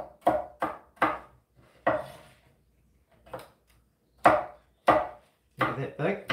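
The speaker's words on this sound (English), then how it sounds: "cut this like that" A knife chops a fresh home-grown wasabi stalk on a board, about ten crisp close thuds in an uneven rhythm with short pauses between strokes and no talking.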